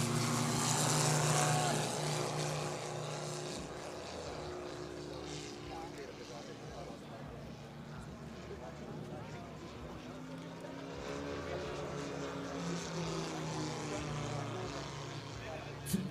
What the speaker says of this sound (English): That lovely sound of the radial engine, absolutely on tune, in perfect harmony with the aeroplane.